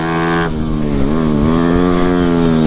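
Loud, close racing motorcycles accelerating hard, a buzzing, high-revving engine drone that holds steady and then climbs as the bikes pull away, with no voices over it.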